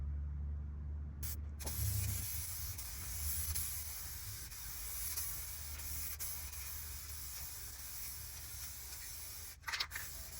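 Spray gun applying basecoat and clearcoat to an Acura RSX, a continuous close hiss that starts after a brief pause and runs steadily, with a few short clicks and knocks near the end.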